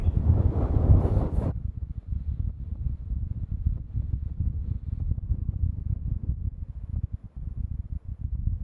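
Cold wind buffets a microphone outdoors as a low, dull rumble that stays steady throughout, with a brief brighter gust near the start and no talking.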